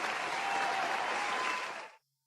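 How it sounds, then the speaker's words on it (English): Applause alert sound: a dense burst of many hands clapping, bright and steady for about two seconds before cutting off abruptly into silence. "Emmett, thank you so much for the whooping claps."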